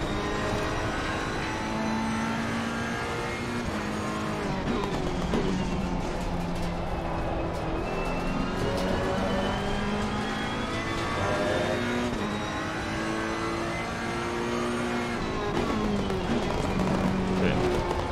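Porsche race car engine in the Assetto Corsa Competizione racing game, a continuous loud droning whine that climbs and dips through gear changes for the whole stretch.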